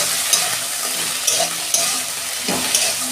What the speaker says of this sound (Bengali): ডাঁটাটা আমি একটু ভেজে নেব।